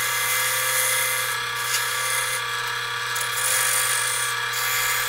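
Wood lathe spinning a square bowl blank with its winged corners while a gouge cuts, a steady loud motor hum under intermittent airy whooshing and scraping.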